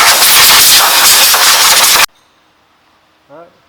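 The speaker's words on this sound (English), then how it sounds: "I'm going to grab my hose, connect an air blower, and just clean it up." A compressed-air blower on a hose cleans the rear brake of a 2016 VW Jetta during a brake pad replacement, giving a loud, close, steady hiss for about two seconds that cuts off abruptly, followed by a brief faint sound.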